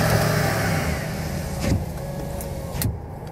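A car is driven and manoeuvred into a parking spot, steady engine and road rumble close up, with a couple of brief mechanical clicks and a small rise in engine noise as it settles.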